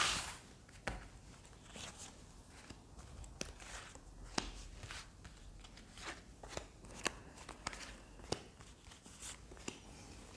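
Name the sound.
shuffling tarot cards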